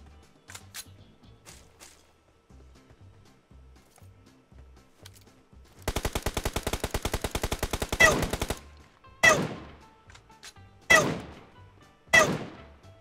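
Gunfire in the battle-royale shooter PUBG: a sustained rapid automatic burst of about two and a half seconds, then several loud single shots with ringing decay, over quieter scattered distant pops.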